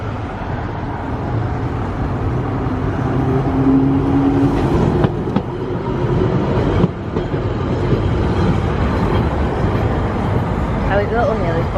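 A tram rumbling along the track at the Blackpool Illuminations, a steady loud rolling drone with faint clacks amid a crowded outdoor street, while people talk close by throughout.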